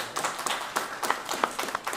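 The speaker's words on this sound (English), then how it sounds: "That's an applause." Scattered clapping at a broadband funding announcement by a senator in Northern Virginia, a small crowd giving short, uneven, moderately loud claps.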